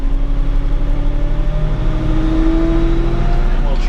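A Bobcat tractor's engine revs up to a steady higher speed and holds there, a loud continuous mechanical drone close by, rising in pitch partway through.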